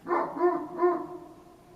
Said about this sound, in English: one, and sometimes both dogs barking, just barking at the sky